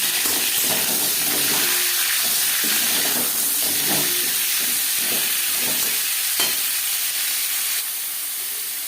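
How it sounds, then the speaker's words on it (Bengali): Pumpkin and cauliflower pieces hit hot refined oil in a pan and fry with a steady, loud sizzle and hiss, with a few stirring clatters near the start; no talking. "তিন চামচ রিফাইন্ড অয়েল গরম করে নিয়েছি এবার দিয়ে দিলাম কুমড়ো ফুলকপি"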